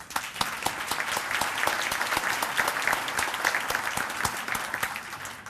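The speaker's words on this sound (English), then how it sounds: "And a round of applause for them" An audience at an evening industry reception applauds the Printing Industries Alliance staff, with sharp individual claps standing out over a steady, moderately loud wash of clapping.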